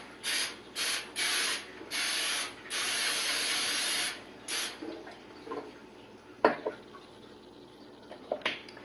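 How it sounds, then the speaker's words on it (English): Oil sprayed onto foil baking pans in several close, loud hissing bursts of varying length, followed by light clinks and rustles of the pans. "I'm using just some foil pans. I'm going to give them a spray with some oil"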